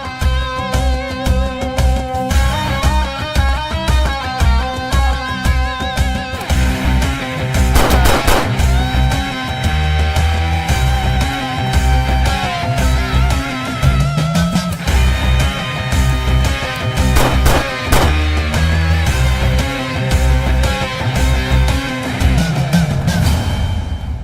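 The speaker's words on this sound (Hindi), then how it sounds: "3 लोगों पर गोलियां चलाई गई हैं" Gunfire in a Hindi crime film scene, with bursts of rapid shots set against a loud, continuous music score that runs throughout.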